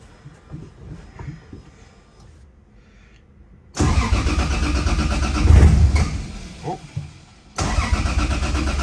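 A 1.5JZ engine fires up on its first start, catching abruptly after a quiet lead-in with faint clatter, then running loud and rough with a brief rev before cutting out and restarting.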